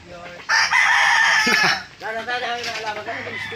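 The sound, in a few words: rooster crowing, chicken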